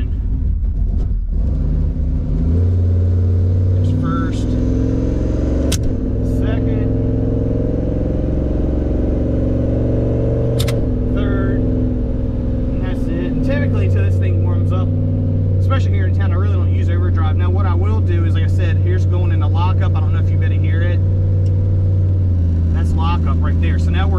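Turbocharged Dodge Dakota RT pickup engine pulling hard up through the gears with an automatic transmission and lockup, a loud droning rumble that rises in pitch and drops at each shift, heard from inside the cab with someone talking over it.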